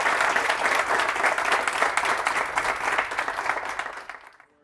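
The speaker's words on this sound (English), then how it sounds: "Big round of applause for the 2020 CEO of the Year." An audience at a CEO talk at Kin Vineyards applauds the 2020 CEO of the Year, sustained loud clapping that fades out at the end.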